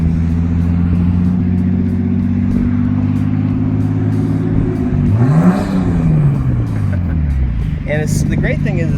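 A Nissan GT-R engine hums steadily while driving in circles, its tone sweeping up and down as it turns, with a voice talking briefly over it.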